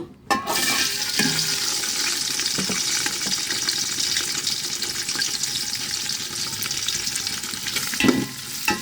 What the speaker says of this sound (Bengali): তেলটা গরম হয়ে গিয়েছে পেঁয়াজ মরিচ রসুন কুচি দিয়ে দেব